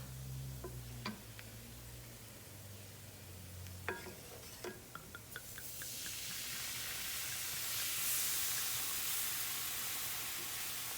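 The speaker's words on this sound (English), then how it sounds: "And then just let that wine cook off. Let it reduce a bit." Half a cup of wine sizzles in a hot pan as it cooks off, a soft steady hiss swelling louder over time, with a few light clicks and stirring taps early on.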